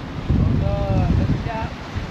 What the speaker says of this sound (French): on a des bonnes rafales